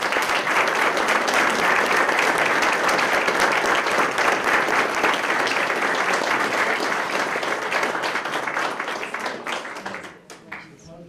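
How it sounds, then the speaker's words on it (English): Loud, sustained applause from a large audience at a police promotional ceremony, dense clapping that holds steady for several seconds and then tapers off at the end. "let's give him a big round of applause"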